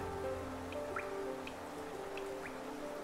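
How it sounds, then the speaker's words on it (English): Rain patters on glass in the video game Hollow Knight, soft scattered drips plinking at irregular intervals over a low, steady ambient hum. "I so love the sound of the rain upon glass."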